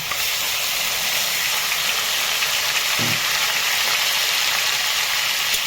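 Ginger-garlic paste frying in a hot pan makes a loud, continuous hiss and sizzle that stays even throughout, with one brief low knock partway through.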